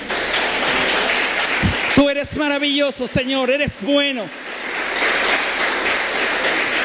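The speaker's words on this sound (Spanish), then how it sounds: "¿Por qué no le da un aplauso al Señor?" Church congregation applauding in a broad, noisy wash of clapping that surrounds a short spoken phrase in the middle and then resumes.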